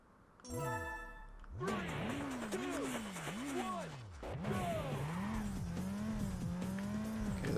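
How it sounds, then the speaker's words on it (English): A car drifting in the racing video game Burnout 2, with swooping, wavering tire squeals and engine whine that rise and fall repeatedly, loud and close, after a brief electronic tone at the start. "This one we actually got like a little bit of drifting going on, it looks like."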